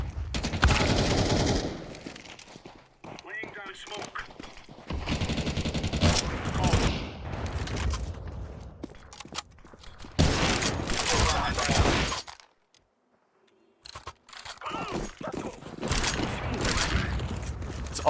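Rapid automatic gunfire in Counter-Strike 2 Premier, bursts of close, loud sprays separated by short pauses and one near-silent gap, with people talking between the shots.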